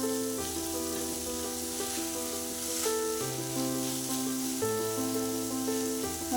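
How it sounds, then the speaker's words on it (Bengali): Winter vegetables, including cabbage, fry in a pan with a steady close sizzle and faint stirring, heard under sustained background music and without any voices. "এটা এবার লাল করে ভাজতে হবে"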